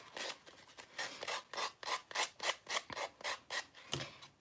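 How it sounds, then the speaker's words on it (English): Edges being sanded by hand, heard as a steady run of about a dozen rhythmic rasping strokes, each a short scratchy rub, close and fairly quiet with nothing else in the background. "edges sanded"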